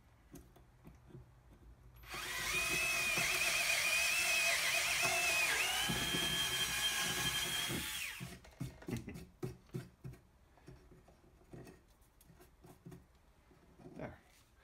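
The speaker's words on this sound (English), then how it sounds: "I'm going to take a household drill, like this power drill, and I'm going to open that up to 1/4 inch." A power drill whines loudly for about six seconds with a steady high-pitched buzz while opening a hole to 1/4 inch in a jeweler's bench pin, then stops, followed by light clattering and handling noises.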